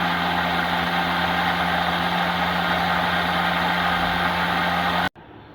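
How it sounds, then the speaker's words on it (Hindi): A kitchen blender runs loudly and continuously, blending a thick kadhi paste of onion, ginger, garlic, yogurt and gram flour with water, a steady motor drone with strong tonal hum that stops sharply near the end. "ताकि ये अच्छे से ब्लेंड हो जाए।"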